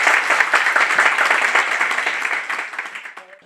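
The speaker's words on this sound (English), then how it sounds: "Please give a huge round of applause." An audience at an Indo-Brazilian chemistry and biology seminar gives a round of applause, brisk, dense clapping that carries steadily and then tapers off toward silence.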